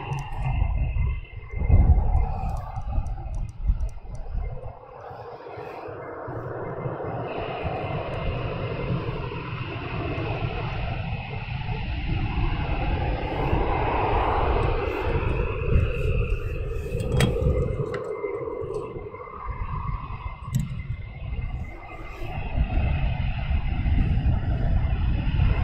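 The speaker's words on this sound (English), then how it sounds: "we have another aircraft taxiing down," A military jet taxis at RAF Lakenheath, a low rumbling engine roar with a thin high whine heard from a distance that holds steady throughout and is mixed with wind noise.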